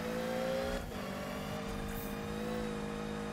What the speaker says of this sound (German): die Kompressoren im Spiel, die klingen auch so böse